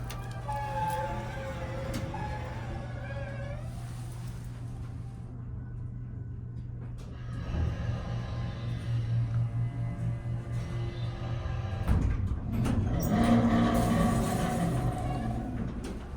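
An automatic hydraulic elevator at Neiman Marcus in Northbrook Court runs with a steady low motor hum throughout, joined by mechanical clunks and rising whirring around the middle and end of the ride.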